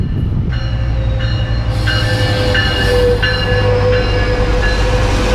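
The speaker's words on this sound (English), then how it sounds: "So here's the eastbound San Bernardino line." Metrolink train on the eastbound San Bernardino line rumbling loudly and steadily nearby, with a sustained low drone and faint metallic wheel squeal running throughout.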